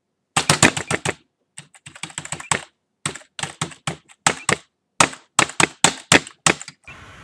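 A computer keyboard being mashed during a rhythm game, with rapid bursts of clattering key presses in quick flurries separated by short pauses, loud and close.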